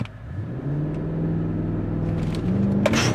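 2024 Mercedes-AMG GLE 63 S V8 in launch control, engine rumbling low then climbing steadily in pitch through hard acceleration, heard from inside the cabin with no talk.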